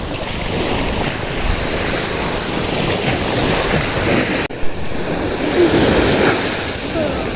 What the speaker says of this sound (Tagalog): Si Dudot po yung nagpapadala sa alon